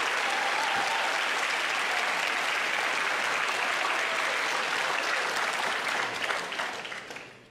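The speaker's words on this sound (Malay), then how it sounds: "Apa kata kita memberikan tepukan kepada kedua-dua pendebat, Yang Berhormat Rafizi Ramli" An audience at a live economic debate gives a loud, sustained round of applause, dense and steady before fading out at the end.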